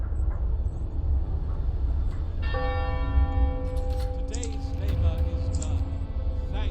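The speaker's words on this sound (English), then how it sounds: "Every time I hear that bell, I think people died" A bell tolls in the video game Frostpunk, struck once with a long ringing decay over a low constant rumble of ambience, with a second fainter strike near the end.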